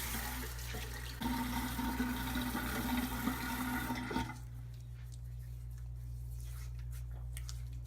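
Running water from a tap splashes steadily as a face is rinsed after a shaving pass, then it cuts off partway through, leaving a quieter room hum.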